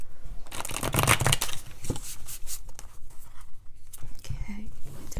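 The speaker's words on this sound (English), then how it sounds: "I did already pre-shuffle and stage these, but let's do one more" Tarot cards from the Wild Unknown deck being shuffled by hand, a dense papery riffling and flicking up close, with soft rustles and a few taps as the deck settles.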